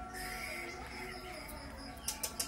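Pet lovebird at its cage, giving several high chirps and calls, with three sharp bright chirps near the end over a steady background hum.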